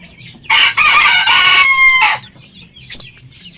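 A rooster crows loudly and close by in one long harmonic call, followed by a short bright squawk, with quiet background murmur.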